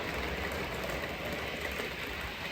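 A model train pulls a rake of carriages along the track, a steady rumbling roll with faint rhythmic clatter, continuous and fairly close, with no voices.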